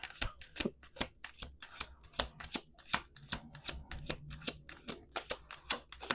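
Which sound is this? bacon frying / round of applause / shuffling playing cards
shuffling playing cards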